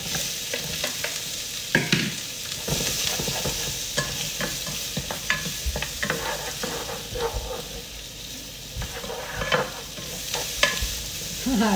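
Onions sauté in a pan in a home kitchen, sizzling steadily while a utensil stirs and scrapes them. The clatter comes close and busy against continuous frying hiss.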